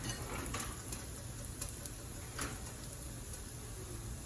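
Veggie patties made with chickpeas and beets fry in a pan with a soft, steady sizzle and crackle, punctuated by a few faint pops, quiet and close with no voices.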